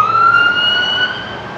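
A state parks vehicle's siren pulling people over sounds nearby, a loud sustained electronic wail holding a steady pitch before slowly easing down.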